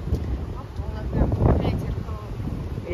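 Cold wind gusting across an outdoor microphone on a sunny day, a steady low buffeting rumble that swells midway, with people talking over it.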